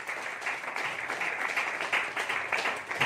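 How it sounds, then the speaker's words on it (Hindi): An audience at a business-plan seminar breaks into sustained applause, a dense, steady wash of many hands clapping for about three seconds with no speech. "जोरदार शानदार तालियों से"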